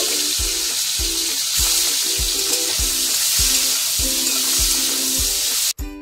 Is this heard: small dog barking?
no